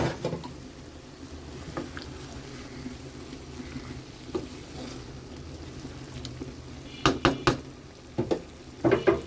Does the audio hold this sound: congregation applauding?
no